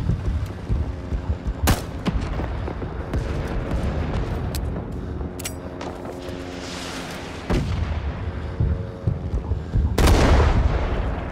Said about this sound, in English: That grenade didn't go where I wanted it to.